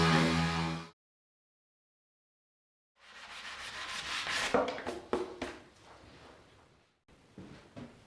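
Hand rubbing down a Ducati 916 fairing panel, a dry scraping and scuffing that comes after a short burst of noise and a pause, then continues in uneven strokes for several seconds with no talking.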